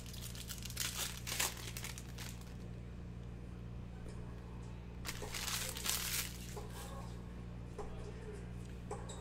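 Someone opens 2020-21 Panini Spectra basketball card packs, and the foil wrappers crinkle and tear in soft, irregular bursts over a low steady background hum.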